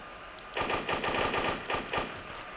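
Rapid automatic gunfire in the Roblox-style game Da Hood, dense bursts of shots rattling off in quick succession for about two seconds after a short quiet lead-in, loud and close with no talk.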